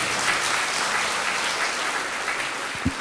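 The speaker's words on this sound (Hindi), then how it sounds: "ताली बजाकर परमेश्वर को धन्यवाद दीजिए" A church congregation at a Sunday service claps together in thanks to God, a dense, loud and steady wash of applause from many hands, ending with a couple of low thumps.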